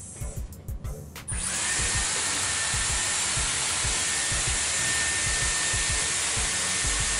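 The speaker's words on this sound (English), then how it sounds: "I'm gonna blast it with a cool shot" Dyson Airwrap used on hair, switching from low to full flow and then blowing a steady, loud rush of cool air for several seconds, after a short sputtering start.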